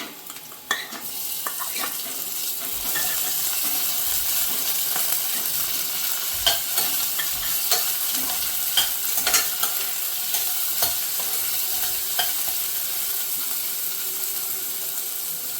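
Tomato and bottle gourd fry in a pan while being stirred, a constant hissing sizzle broken by repeated scraping and tapping strokes of a spoon, close and steady throughout, with no speech.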